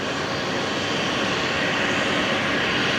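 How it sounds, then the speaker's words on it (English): A Velocity Boeing 737 MAX 8 jet touching down at Brisbane Airport, a steady broadband engine roar heard from a distance, constant and loud throughout. "just about to touch down, the MAX 8"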